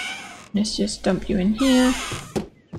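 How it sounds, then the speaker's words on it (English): A cat meows nearby, a drawn-out cry that rises and falls, while a person talks over it. "if you can hear my cat in the background"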